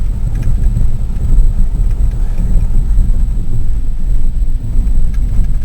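A car creeping slowly over snow on snow ropes in second gear gives a steady low rumble with wind buffeting, continuous and fairly loud throughout.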